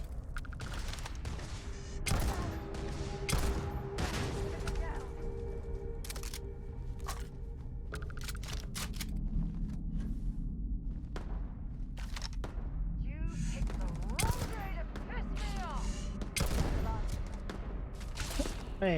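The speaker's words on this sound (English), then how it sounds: "they blind fire as well" Enemies blind-fire guns in the Starfield video game, with scattered sharp shots and short bursts cracking at irregular intervals while a person talks over the action.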